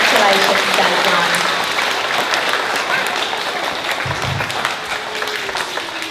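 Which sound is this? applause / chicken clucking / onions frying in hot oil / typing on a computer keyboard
applause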